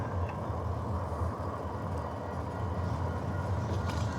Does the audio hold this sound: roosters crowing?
no